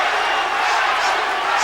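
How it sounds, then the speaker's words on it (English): Boxing arena crowd at the Larry Holmes versus Michael Spinks heavyweight rematch, yelling and cheering in a steady dense roar that fills the short stretch without letup. "Now the crowd is yelling for Larry Holmes."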